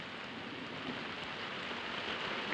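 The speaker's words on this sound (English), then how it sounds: "Desert rains can be violent and intense." A steady, even hiss of rain falls over desert ground. The sound is faint and continuous, with no distinct drops or thunder standing out.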